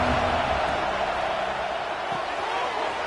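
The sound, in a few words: football stadium crowd cheering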